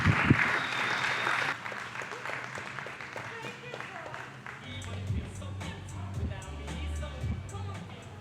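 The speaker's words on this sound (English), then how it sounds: "Give yourselves a big round of applause." Audience applause and cheering at a stand-up comedy club during a costume contest night, a dense burst of clapping at the start that settles into steady crowd noise with a voice over low background.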